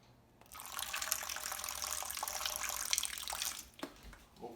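Cider vinegar splashes into a pork marinade in a steady, close pour lasting a few seconds, then a couple of brief trailing drips and settling sounds, with no talking.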